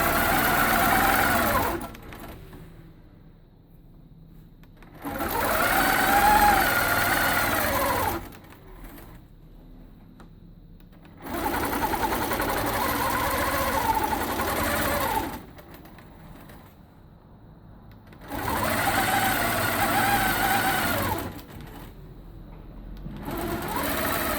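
A longarm quilting machine stitches a quilt-along row, running in four long steady bursts of rapid mechanical whirring separated by quieter pauses.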